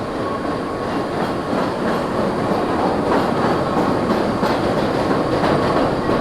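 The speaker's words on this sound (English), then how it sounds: "There is Santa Claus on the holiday train." A holiday train rolls past at the Chicago Christkindlmarket, a steady loud rumble with clickety-clack wheel rhythm and faint squeal running throughout, no talking.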